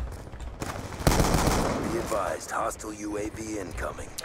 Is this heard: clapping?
no